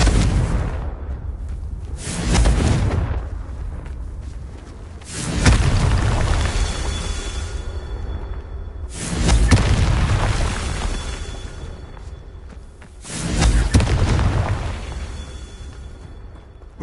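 Repeated magical blast explosions from the Confringo spell in Hogwarts Legacy, four deep booming bursts spaced a few seconds apart, each fading into a rumbling tail.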